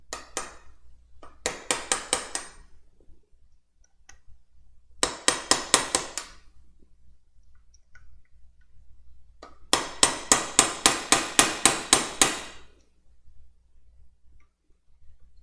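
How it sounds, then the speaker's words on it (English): A hammer drives a chisel to split a part during a wrenching job, giving several bursts of rapid, sharp metallic strikes, close and loud, separated by quiet pauses with no talk. "Back to our chisel."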